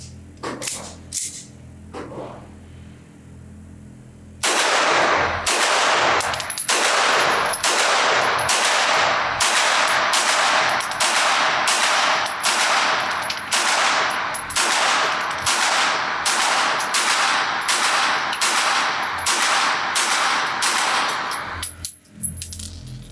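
Sig Sauer P226 Pro-Cut pistol fired at an outdoor range, a long run of sharp, loud shots in steady rhythm after a few quieter opening pops, close to the listener with no talking.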